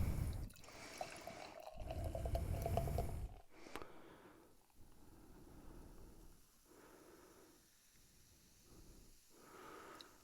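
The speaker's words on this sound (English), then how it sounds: "And of course, we will pour it into a glass." A drink from a freshly opened container is poured into a glass: a few seconds of close gurgling, splashing flow, then a quieter fizzing hiss with faint breathing nearby.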